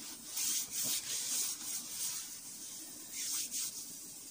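Partly thawed frozen food stuck to plastic wrap is scraped off inside a converted Kangoo camper van. The rasping strokes come close and repeat about every half second, with short pauses between bursts.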